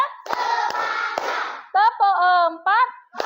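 Children clap along in a counted rhythm, a few sharp hand claps over a chanting, sing-song group of young voices, followed by a teacher-like voice speaking in short melodic phrases.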